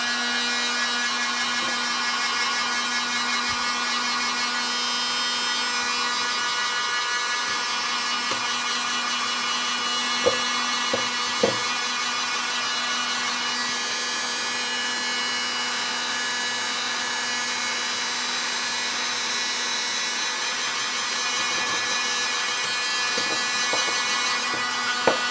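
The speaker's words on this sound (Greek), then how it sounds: "τα στεγνώνουμε με θερμοπίστολο" A heat gun drying freshly cleaned metal objects after rust removal by electrolysis, giving a steady, loud airy whir with a constant hum that runs unbroken, marked by a few faint clicks near the middle and end.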